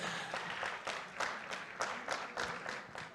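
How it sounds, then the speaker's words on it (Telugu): An audience claps at a film success meet, steady scattered applause from a crowd at moderate distance throughout. "అస్సలు కొడుతున్నారు క్లాప్స్, మామూలు క్లాప్స్"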